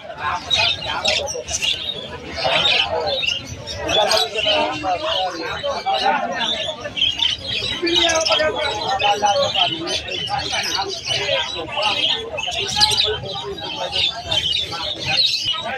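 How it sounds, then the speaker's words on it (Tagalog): Many parakeets at a bird seller's stall chirping and tweeting constantly in a busy overlapping chorus, close and lively, with people talking in the background. "Ang daming parakeets dito talaga nila Boss Ray tsaka ni Boss Ernie."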